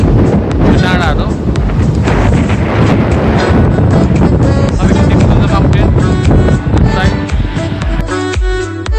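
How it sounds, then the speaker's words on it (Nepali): Strong cool wind blowing across a hilltop near a view tower in Dhankuta, Nepal, a loud continuous buffeting roar against the microphone that fills the whole stretch with rumbling gusts. "तपाईँ देख्न सक्नुहुन्छ यहाँनिर निकै शीतल हावा चलिरहेछ"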